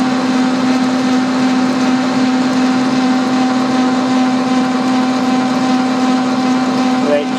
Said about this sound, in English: the lathe's making noise because it's working